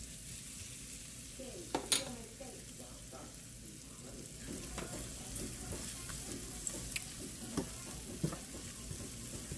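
Onion and seasoned food frying in butter in a pan over low heat: a steady close sizzle with occasional stirring clinks and scrapes.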